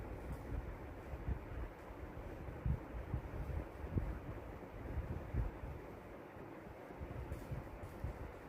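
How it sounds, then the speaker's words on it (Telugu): Wind gusting across an outdoor vegetable garden on an overcast day, a steady low rumble of air buffeting the microphone with occasional stronger gusts, no voices. "గాలి బాగా ఇస్తుంది,"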